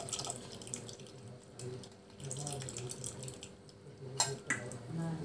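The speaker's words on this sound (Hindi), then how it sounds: "अब इसके अंदर हम इसका रंग बदलने के लिए हम चाय पत्ती का पानी डालेंगे" Water steeped with tea leaves poured into a pot of boiled chickpeas and potatoes for chole, a soft splashing pour with faint kitchen clatter in the background.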